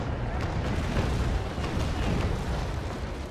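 A ship's cannon broadside in the Naval Action naval battle game, a dense run of heavy, rumbling booms blurring into one loud continuous roar, with a voice faintly underneath.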